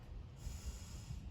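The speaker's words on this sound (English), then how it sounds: "Inhale and exhale." A slow breath during a yoga flow, a soft, close airy exhale lasting about a second, alone and quiet.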